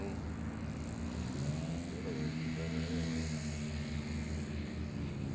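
A P-38 model airplane sits at a flying field, and its engines produce a continuous buzzing drone that holds steady and close, with a voice heard briefly.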